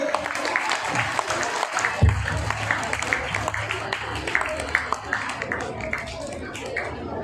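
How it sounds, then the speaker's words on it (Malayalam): Audience clapping for a student at an Onam prize event, a sustained patter of many hands from a moderately sized crowd, with voices murmuring underneath throughout. "എല്ലാവരും കൈയടി കൊടുത്ത്."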